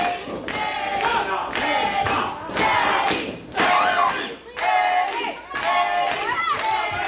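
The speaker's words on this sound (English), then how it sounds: "Fans right behind him, chanting Eddie." Wrestling crowd at a PCW independent show loudly chanting a wrestler's name, Eddie, in a steady rhythmic chant with thumps and claps mixed in, swelling and dipping across several beats.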